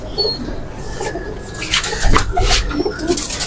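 Pigeons of a single bloodline coo in a loft, soft repeated low coos close by, mixed with other bird calls and faint rustling.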